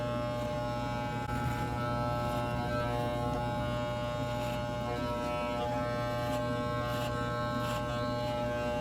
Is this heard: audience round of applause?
no